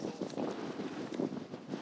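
Steady, strong wind buffets the microphone, a continuous low rumbling roar with gusty surges and no voices.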